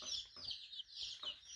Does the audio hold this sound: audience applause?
no